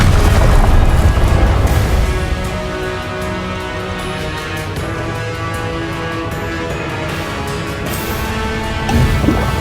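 Spell explosions from Incendio and Confringo in Hogwarts Legacy, loud deep booms and crackling bursts at the start and again at the end, with the battle's sound continuing through the middle.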